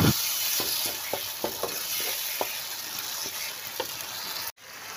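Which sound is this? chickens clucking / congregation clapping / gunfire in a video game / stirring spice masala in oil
stirring spice masala in oil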